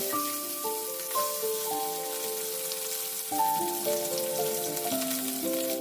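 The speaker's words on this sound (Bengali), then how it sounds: "নুন হলুদ মাখানো ডিমগুলো একটা একটা করে তেলের মধ্যে আমি ভাজার জন্য ছেড়ে দেব" Eggs coated in salt and turmeric fry in hot mustard oil with a steady, crackling sizzle beneath soft background music.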